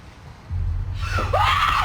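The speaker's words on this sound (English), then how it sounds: "You said you wouldn't scream." A woman gives a short, sharp scream reacting to a tense TV scene, rising over a low rumble of background audio from the episode.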